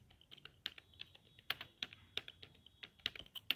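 Rapid taps on an Android phone's on-screen keyboard while entering C program code, a close, irregular run of a dozen or so light clicks with short pauses between bursts, no voices.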